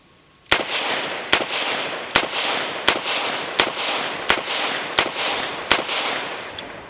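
A S&W Model 327 WR revolver fires 9mm rounds, eight sharp, loud shots spaced roughly evenly, each followed by a brief ringing decay, with no voices.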